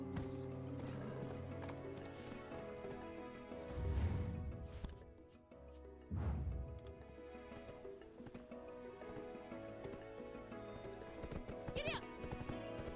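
Horse hooves in the online role-playing game Black Desert Online: a couple of heavy thudding hoof impacts over a tonal game soundtrack, fairly faint overall.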